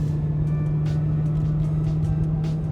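A BMW M3 fitted with a performance exhaust holds a steady low engine drone while cruising, heard from inside the cabin as a constant hum with light road noise.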